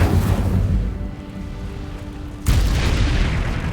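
In the Hogwarts Legacy video game, the Incendio fire spell is cast with a loud whooshing burst that swells, eases into a fiery roar, then erupts again abruptly with a second heavy blast.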